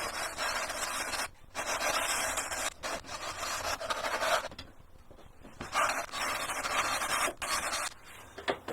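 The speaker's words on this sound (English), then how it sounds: "Let's give it a go, sand it down." Sanding a model aircraft fuselage produces a close, steady rasping scrub in long strokes broken by short pauses, loud and alone.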